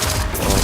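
A short, dense burst of rapid gunfire in the shooter Destiny 2, loud and close with no pauses between shots.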